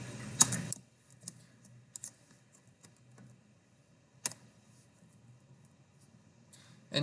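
Java code typed on a computer keyboard, scattered quiet key taps at an uneven pace, with a couple of sharper clicks and long near-silent gaps between them.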